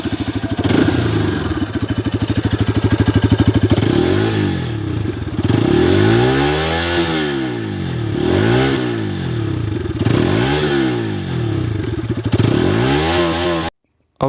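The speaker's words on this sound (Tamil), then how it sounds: "RS200 எக்ஸாஸ்ட் சவுண்ட் அவ்வளோ சூப்பராக இருக்குது." A Bajaj Pulsar RS200 BS6 motorcycle exhaust rumbles loud and close, idling and then revving repeatedly in rising and falling swells, with a brief clattery edge and no talking.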